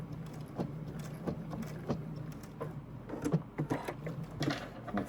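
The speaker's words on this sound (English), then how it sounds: "I'm going to backstitch right over where I started" A sewing machine backstitches over the start of a seam with a quiet, close, uneven run of rapid mechanical stitching clatter and short pauses between bursts.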